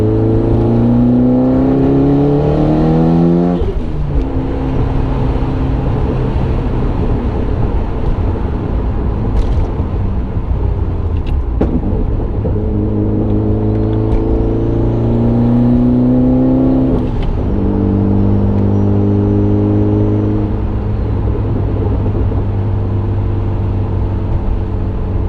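Mitsubishi Evo X engine with a GTX3582 gen2 turbo in the stock location and a built head, running steadily up close, its idle hum shifting in pitch a few times as the revs rise and settle.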